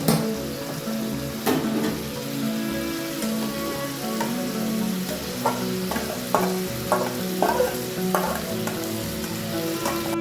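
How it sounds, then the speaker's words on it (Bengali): Chicken pieces fry in a pan, a steady crackling sizzle close by with soft scraping and tapping as they are stirred and turned, no voices. "চিকেনটাকে আমি 5 মিনিটের মতন ভেজেছি, আরও একটু ভাজবো"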